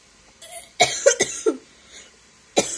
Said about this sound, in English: and also I got a cough